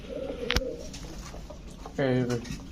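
Nazra Kaldom pigeons coo in two bursts, a short one early and a longer throaty run near the end, with a sharp click between them and a faint voice in the background.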